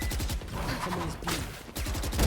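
Rapid bursts of video game gunfire crackle through a first-person shooter match, dense and continuous with short gaps, played at moderate loudness with no talk over it.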